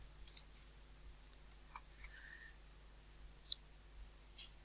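Faint, quiet computer mouse clicks, a quick double click near the start and a single crisp click later, with small soft desk sounds between in a hushed room.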